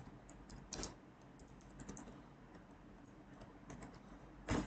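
Keystrokes on a computer keyboard tapping at an irregular pace, fairly faint and close, with a couple of louder key presses standing out near the start and end.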